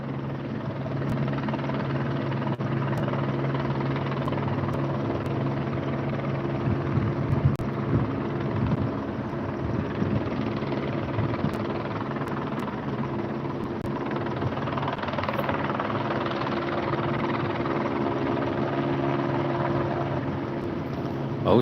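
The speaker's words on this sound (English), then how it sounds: "so we still have about 2 choppers in the air" Helicopters circling overhead above a student protest in Los Angeles give a continuous, steady rotor drone that stays fairly even and moderately loud throughout, with no speech heard.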